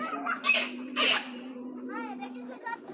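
Giribaz pigeons squawk and flutter nearby in a couple of brief bursts over a steady low hum, followed by soft warbling bird sounds.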